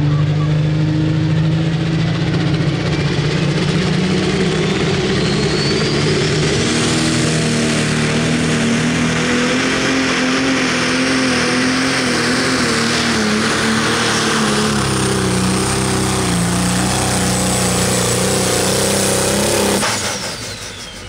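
Jeremy Smith's Spontaneous Combustion pulling tractor roars loud and sustained during a run at a truck and tractor pull, Greene County Fair in Xenia, Ohio, engine pitch shifting as it revs, then cutting off near the end.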